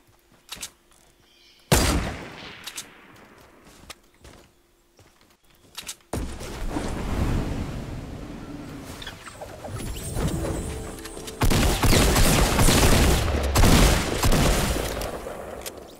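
Shotgun blasts and gunfire in Fortnite Battle Royale come in scattered loud bursts, some sharp single shots and some dense volleys, with quieter stretches of game ambience between them.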